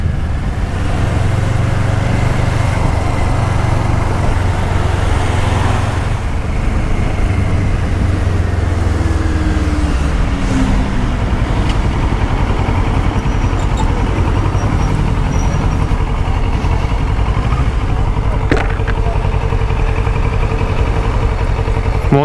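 A Honda CBR 125 motorcycle rides along a road, its small engine a constant droning rumble mixed with road and wind noise, steady and close throughout.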